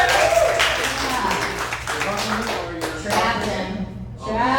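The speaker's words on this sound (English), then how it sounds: "Clap it up for me." A stand-up comedy show audience bursts into brief, dense clapping and applause, heard close and loud beneath a performer's voice speaking over it.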